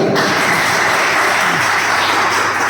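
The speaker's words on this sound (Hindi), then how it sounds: "सर के लिए जोरदार ताली" Seminar audience at a Sunday health awareness program claps loudly for a guest, a thick, unbroken roar of hands that stays full for the whole stretch.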